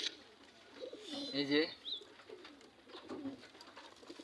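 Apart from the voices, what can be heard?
pigeons cooing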